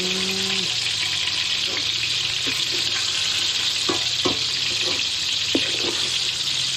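Vegetables sautéing (gisa) in a pan while lunch is cooked for a family meal, giving a steady, close sizzling hiss throughout, with a few soft clinks of a utensil stirring against the pan.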